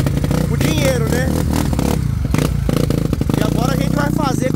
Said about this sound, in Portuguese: Clebão acabou de regular o twistão agora no álcool, carburador XR400